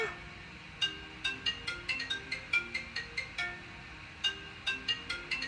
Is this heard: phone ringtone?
yes